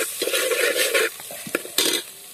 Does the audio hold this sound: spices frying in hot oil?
yes